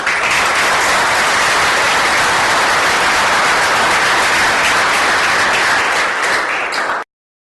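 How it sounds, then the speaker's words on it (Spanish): Steady, dense applause from an audience after a pair of astronomy talks about the Gaia mission, loud and continuous for about seven seconds before cutting off abruptly. "Un aplauso de nuevo"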